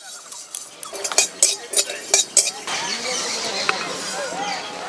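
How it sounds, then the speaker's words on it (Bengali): Cumin seeds dry-roasted and stirred in a dry pan for a Bengali fish curry, heard as a run of sharp metal scrapes and clinks from the spatula, then a steady sizzle with faint talk. "শুকনো খোলায় জিরে ভেজে নেব।"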